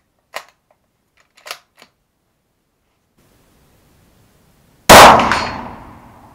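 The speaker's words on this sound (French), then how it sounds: "Le gong bouge pas trop. On entend bien taper." A 7.62x51 (.308) rifle bullet hits a steel gong in one loud, bright clang with a ringing tail, after a few faint short clicks and near silence.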